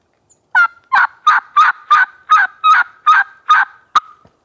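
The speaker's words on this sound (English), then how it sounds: "Now we've heard a turkey gobble at least." A wild turkey gobbles outdoors in a windy hunting spot, ten rapid, loud rattling calls running together in a single burst, clear and close with no voices over it.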